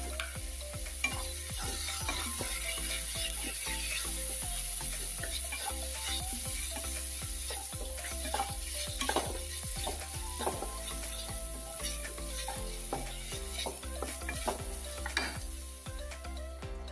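Chicken wrap filling sizzles in a pan with soy, tomato and chili sauces while a utensil stirs and scrapes against the pan, steady close frying with irregular clinks.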